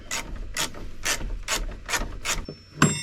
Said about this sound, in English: take our 14 mil and our 17 mil and remove those bolts